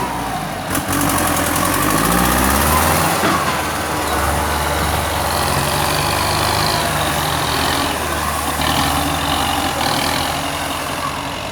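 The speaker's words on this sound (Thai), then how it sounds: "รถไถสองคันช่วยกันเนาะ" Two M85 tractors working together at an earth-filling site run their engines continuously, a loud, close, steady diesel rumble with a rough vibrating texture and no voices.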